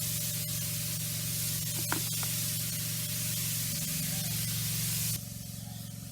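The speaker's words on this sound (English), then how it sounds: "Continuing the spraying," Steady hissing spray of liquid onto plant leaves runs continuously for several seconds, fairly loud and close, then cuts off near the end leaving quieter background.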